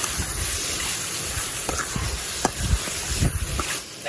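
Pieces of chicken are stirred and turned over while frying in a pan, giving a steady sizzle with soft scraping and clinking of the spoon against the pan, the stirring noises surfacing intermittently.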